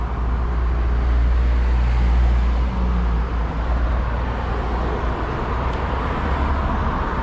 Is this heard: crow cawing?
no